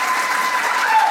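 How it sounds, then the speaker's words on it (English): Audience clapping at a game developers' conference talk, a short burst of dense, steady applause from a crowd throughout. "I just like made you clap for me."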